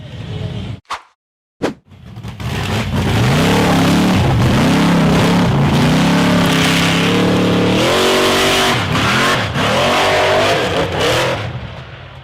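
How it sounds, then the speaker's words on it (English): An orange and silver off-road buggy climbs a slippery, muddy slope at a 4x4 hill climb, its engine revving hard and loud after a couple of short blips, sustained with rising and falling pitch as it powers upward. "The orange and silver buggy accelerated up the slippery, muddy slope"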